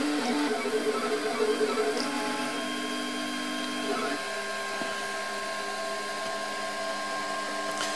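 A RepRap 3D printer printing transparent plastic whirs nearby with a steady mechanical hum and shifting stepper-motor tones that change pitch around the middle.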